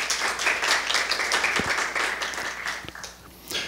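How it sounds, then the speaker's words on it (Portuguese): A panel-event audience applauds continuously, dense steady clapping that swells and fades slightly before picking up again at the end. "Professora Cristiane, uma salva de palmas."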